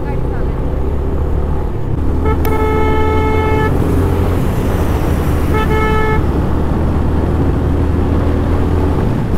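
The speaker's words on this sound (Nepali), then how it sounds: "यस्तो हर्न चाहिँ चाहिन्छ क्या हाइवेको लागि" A vehicle horn honks twice, long loud blasts a few seconds apart, over the steady rumble of a car travelling along the Bandipur to Pokhara highway in Nepal.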